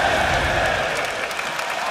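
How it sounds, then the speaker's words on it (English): A crowd at a 2014 League of Legends EU LCS summer esports match, Millenium vs Roccat, claps and cheers as a steady, dense wash of applause with no single claps standing out. "Yeah, crowd obviously enjoying."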